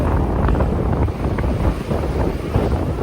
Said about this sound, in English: The fucking wind looks like it was born in Mallorca and it's just flying straight at us.